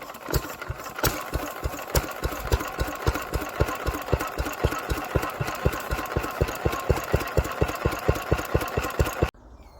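An old Villiers air-cooled diesel engine runs steadily close by, its loud, even knocking firing beat repeating for about nine seconds before cutting off abruptly.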